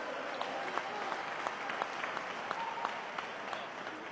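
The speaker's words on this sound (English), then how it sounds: "Put your hands together for Brother Leonard Muhammad" A distant audience at an indoor drill competition applauds with steady, faint clapping that holds evenly throughout, with a few sharper claps standing out.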